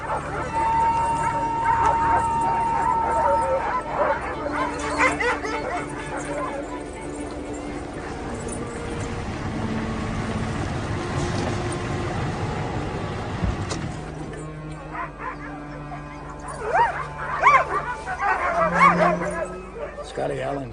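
Sled dogs bark, yip and whimper in a restless chorus, the sharp barks and whines coming close and often, with a howl rising near the end.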